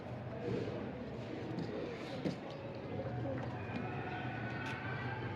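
Soft cooing of pigeons, a female crossbreed, over a steady background hum, with faint bird calls throughout and no one speaking.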